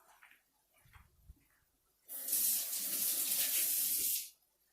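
Tap water gushes into a sink for about two seconds while garlic is rinsed under it, starting abruptly after quiet kitchen sounds and stopping just as suddenly.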